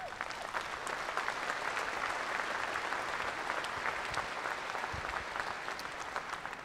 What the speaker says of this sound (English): I think they should get another round of applause.